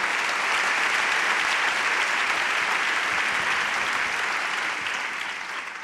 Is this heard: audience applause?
yes